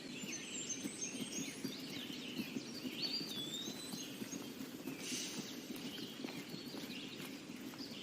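Horses walk away at a steady clip-clop, hooves thudding continuously at a moderate distance, with birds chirping faintly in the background and no talk.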